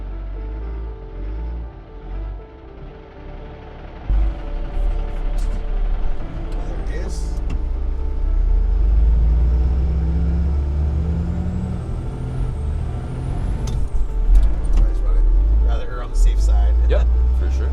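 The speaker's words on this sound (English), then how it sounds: "So you're just gonna drive the one tire up and stop and then reverse off." A 6x6 overland RV creeps forward to drive one tire up onto a rock, a steady low engine rumble building and holding close by, with a brief hiss like an air brake and people talking over it.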